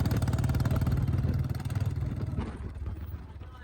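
Royal Enfield Bullet motorcycle fitted with an aftermarket silencer, its exhaust thumping in a steady low rhythm close by for the first half, then easing off into quieter rumble with background noise.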